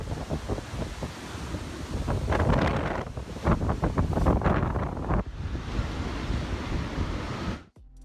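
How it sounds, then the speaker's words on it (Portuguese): Typhoon Jebi's strong winds and huge waves batter Japan's southeastern coast, a roaring rush of wind and crashing surf that swells and buffets the microphone, loud and continuous. "o tufão Jebi também causou ondas enormes que atingiram a costa sudeste do Japão"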